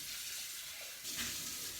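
Tap water runs steadily into a sink while a pan that held milk-based béchamel sauce is rinsed, a close, continuous hiss with a slight surge partway through and no talking.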